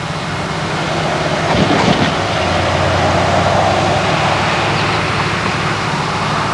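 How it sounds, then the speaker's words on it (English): A passenger train on an Iowa Interstate Railway track at a small-town stop rumbles past loud and close, with steady wheel clatter, a brief squeal and no talking. "the first passenger train to stop at South of Mana in at least 25 years is going to be coming down that track"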